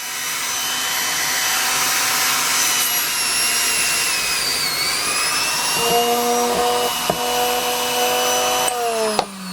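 A small electric motor salvaged from a sewing machine whines continuously at high pitch, its tone dipping briefly, then a lower steady hum joins near the end with a couple of clicks.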